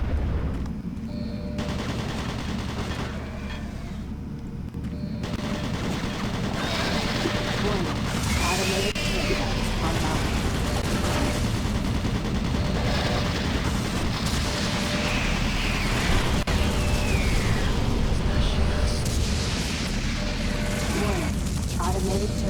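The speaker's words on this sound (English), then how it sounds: "Warning. Automated turret guns online." Automated turret guns fire in Doom BFG Edition, a loud continuous barrage of rapid mechanical gunfire and booms, with a voice speaking over the din.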